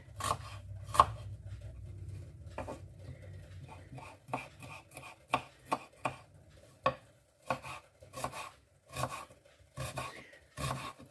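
A knife finely chopping onion on a board for Olivier salad gives sharp, close taps, first scattered and then in quick irregular runs of separate cuts, quiet overall with no talk.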